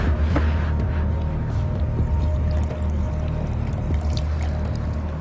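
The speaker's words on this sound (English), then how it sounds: "Allow the mixture to cool before pouring it into the tank" Cooking oil, methanol and lye biodiesel mixture pours through a filter into a fuel tank, a steady liquid splash and trickle running continuously under a low background rumble, close and fairly loud.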